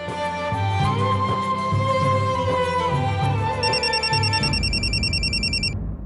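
An electronic phone ring trills in rapid repeated bursts near the end, following a steady tonal hum that cuts off beforehand.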